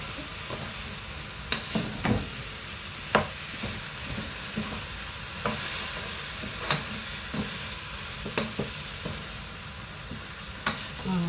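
A nut protein laddu mixture being stirred in a hot pan, a continuous low sizzle broken by scattered scraping clicks of the spoon against the pan at irregular intervals, with no talk.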